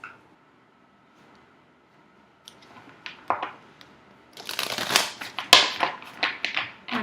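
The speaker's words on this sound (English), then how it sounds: "So I'm going to go ahead and shuffle my decks and draw those cards" Tarot and oracle card decks are shuffled by hand, starting with quiet, scattered card taps and building into dense, riffling bursts of shuffling that grow louder toward the end.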